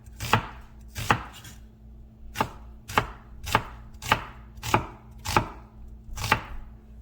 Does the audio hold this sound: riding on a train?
no